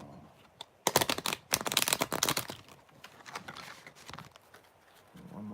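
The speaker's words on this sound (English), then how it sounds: "And one more shuffle for the Libra." A tarot deck is shuffled close by in a dense, loud burst of rapid riffling clicks, followed by quieter scattered card taps, with no voice over it.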